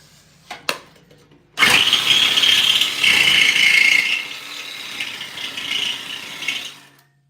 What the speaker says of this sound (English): I'll grind it to where it goes down in there, though.